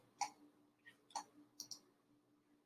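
Several sharp, quiet mouse clicks spaced irregularly, two or three close together, against a faint steady hum with no talking.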